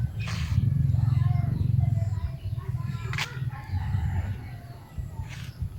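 A chicken clucks and crows outdoors among a low, steady background rumble, with a few short calls spread across several seconds.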